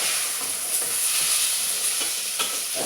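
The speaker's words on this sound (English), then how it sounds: "we take our celery, put it in there, mix it in with the onion" Celery stirred into onions frying and browning in a pan, giving a steady close sizzle with light stirring scrapes and soft crackles, no talk.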